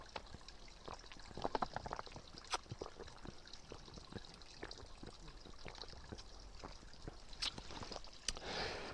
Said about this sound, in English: this is what it sounds like to drink a liter when you finally come to a water source